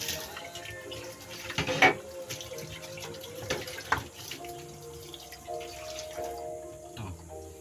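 Tap water runs steadily into a kitchen sink during dishwashing, with occasional clinks and splashes of dishes rising over the constant flow; no talking.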